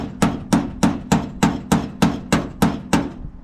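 Hammer tapping torn sheet metal inward on a Ford F100 driver-side body panel: ten evenly spaced, sharp metallic blows at a steady rhythm, close and loud, with no talk.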